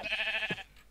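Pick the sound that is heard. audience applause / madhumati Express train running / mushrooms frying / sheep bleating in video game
sheep bleating in video game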